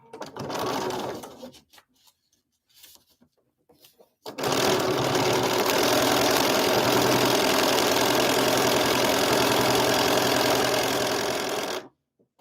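Sewing machine stitching in a steady loud whir for about eight seconds after a few short quieter bursts, then stopping abruptly.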